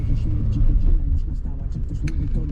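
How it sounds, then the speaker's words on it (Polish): Low road rumble of a Mercedes car driving through the town of Braunau, a steady deep drone heard from inside with someone talking over it. "Polak jadący Mercedesem przez Braunau."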